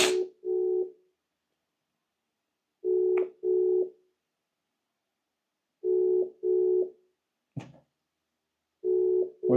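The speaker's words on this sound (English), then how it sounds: "Calling someone while they're in the same house as you are." A phone call's ringback tone sounds in repeated double bursts separated by silences, steady and electronic, with a brief click between cycles.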